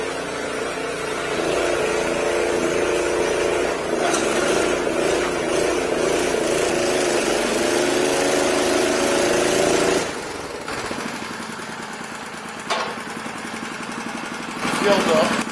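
A mini-truck engine idles nearby with a steady mid-pitched drone, then settles to a lower, rougher idle partway through as people talk over it.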